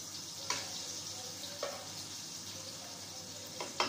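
Onion and tomato fry in a handi pot with a steady, close sizzle, broken by a few sharp stirring clacks against the pot and no talking.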